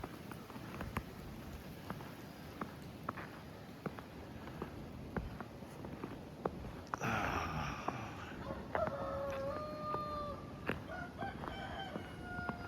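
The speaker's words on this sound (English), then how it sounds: "Chickens are talking this morning." Farm chickens clucking faintly with a rooster crowing, heard in the morning after an ice storm, quiet and somewhat distant, with sharp drips and ticks from the icy surroundings throughout.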